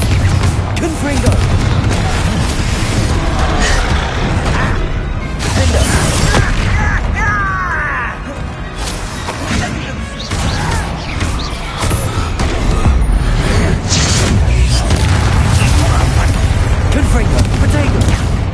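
Repeated Confringo spell explosions in the video game Hogwarts Legacy, dense booms and crashing bursts rolling one after another through a noisy battle, with voices shouting over the combat.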